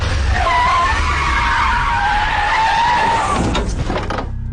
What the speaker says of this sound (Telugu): నీ బండి బ్రేక్ సౌండా?